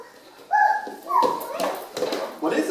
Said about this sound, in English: That's Sister Bergman's dog.